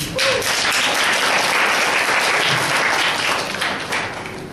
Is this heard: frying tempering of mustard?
no